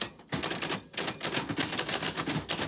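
Typewriter keys clatter in quick, irregular strikes during a live typewriter ASMR session, close and crisp, with a brief pause near the start before typing resumes steadily.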